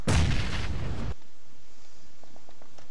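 A single loud shotgun blast in the battle royale game PUBG, a sharp booming shot that rings out for about a second before fading into quiet in-game ambience with faint distant ticks.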